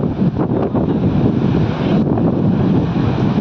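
Heavy flood flow on the Tapi river after upstream rains roars continuously and loudly at close range, a dense churning wash with buffeting low rumble and no talk.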